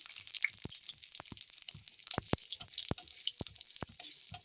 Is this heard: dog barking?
no